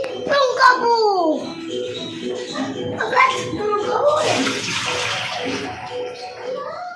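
Katla fish being washed in water at home, with splashing and running water that swells midway and continues steadily alongside a voice talking over it.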